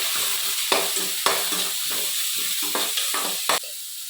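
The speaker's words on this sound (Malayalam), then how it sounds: "ഒരു ചെറിയ സവാള കനം കുറച്ച് നീളത്തിലരിഞ്ഞത് ഇട്ട് കൊടുക്കട്ടെ. നന്നായിട്ട് വഴറ്റിയെടുക്കണം." Thinly sliced onion sautéing in a pan in a village kitchen, a continuous close hiss and sizzle broken by spatula scrapes and stirring knocks.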